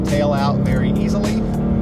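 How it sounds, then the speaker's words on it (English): Ford Mustang GT 5.0 spinning its tires in second gear, a steady engine drone under continuous talking throughout, with the tire noise not clearly separable. "And still spinning the tires in second gear."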